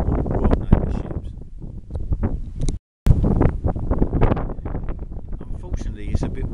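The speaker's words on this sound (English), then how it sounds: "Unfortunately, it's a bit windy up here today." Gusty wind buffets the microphone in loud, uneven rumbling bursts, broken by a brief dropout of silence partway through.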